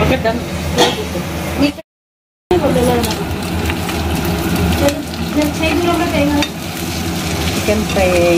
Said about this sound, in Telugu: చికెన్ ఫ్రై అయింది. Chicken fry is done.